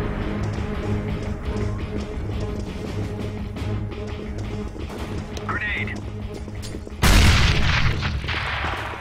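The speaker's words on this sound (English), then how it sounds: "Grenade!" A grenade goes off in the shooter game CS:GO: one loud, sudden blast near the end that rises above a steady bed of game noise, with a player's voice talking over it.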